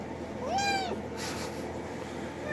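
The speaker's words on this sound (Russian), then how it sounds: "Требует еду. Так сидит и мяукает." A hungry cat meows for food, one clear rising-falling meow up close against a steady low room hum.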